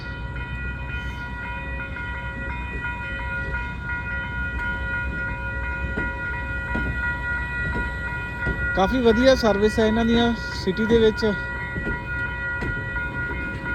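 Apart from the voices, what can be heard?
city tram passing at station in Canada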